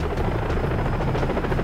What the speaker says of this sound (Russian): вертолет подходит с запада